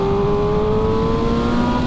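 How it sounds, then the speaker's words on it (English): MV Agusta Brutale 1000 RR motorcycle, a 2020 model, ridden on bumpy back B roads, its engine holding a steady high-revving drone with a slowly shifting whine throughout. "Get those revs up."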